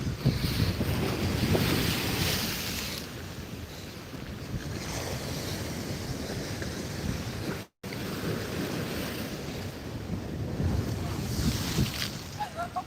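Strong wind gusts roar across the microphone outdoors at the ancient city of Side, with a watery, surf-like rush underneath and a momentary dropout midway.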